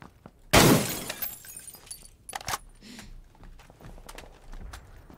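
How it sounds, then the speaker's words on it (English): Windows shatter in the video game PUBG with a sharp, loud crash of breaking glass, followed by smaller scattered cracks and tinkling debris. "Why did the windows get destroyed? So I can see better and so I can vault out without making a glass sound."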